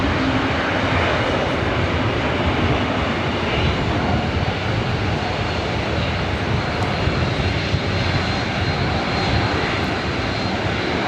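A Southwest Airlines jet landing at LAX from San Francisco gives a loud, continuous, broadband engine roar that holds steady throughout, with no voices over it.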